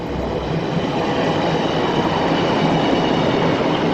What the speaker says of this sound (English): There's another train coming every time.